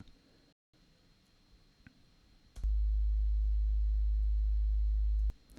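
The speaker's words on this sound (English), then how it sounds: "So yeah, it's just a sine wave. It's just a bass note." A pure, low sine-wave bass tone from a synth sounds steadily for about three seconds after brief quiet, then stops abruptly.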